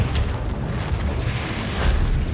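A Confringo fire spell in Hogwarts Legacy bursts with a loud, low rumbling boom that rolls on briefly, heard up close and alone.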